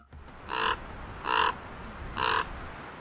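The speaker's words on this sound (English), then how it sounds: "crows caw and purr." Three harsh crow caws, evenly spaced about a second apart, loud and close against a quiet outdoor background with no talk.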